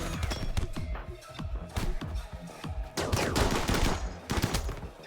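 Gunfire in the sci-fi game Inquest of the Dead, rapid bursts of shots in quick, irregular volleys with sharp thuds, a dense crackling stretch in the second half, no talking.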